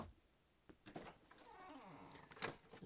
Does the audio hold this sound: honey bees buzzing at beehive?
no